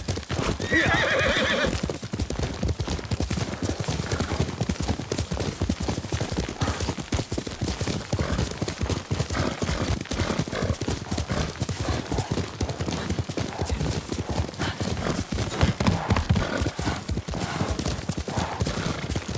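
A horse gallops in the video game Ghost of Tsushima, with a fast, steady clip-clop of hooves running throughout and a brief neigh near the start, the hoofbeats sounding close and continuous.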